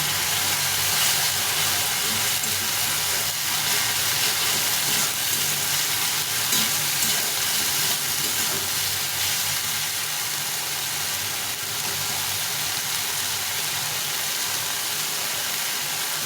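Spices sizzling in a hot pan with a spoon of Kashmiri chili powder, a loud continuous frying hiss running unbroken from start to finish, no voices.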